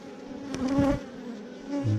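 Honeybees buzz steadily around an open hive that has been combined into a double deep, with a close, droning hum that swells and eases as insects pass near.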